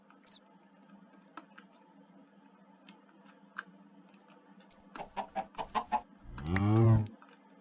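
Chickens in the Minecraft video game cluck in a quick run of short, clipped calls, then a louder drawn-out squawk. Scattered faint game sounds fill the quieter stretch before.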